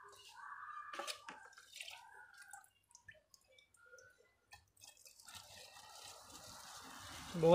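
Old petrol containing water and dirt is poured through a filter while fuelling a Royal Enfield Classic 500cc motorcycle, giving a faint, uneven trickle with scattered drips and splashes that build toward the end, with soft murmuring nearby.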